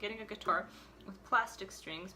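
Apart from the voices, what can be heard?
No distinct noise like a dog, phone or traffic.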